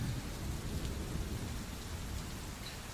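Steady rain with low thunder rumbling underneath, a storm sound effect playing during a tabletop role-playing session, continuous and fairly quiet with no voices over it.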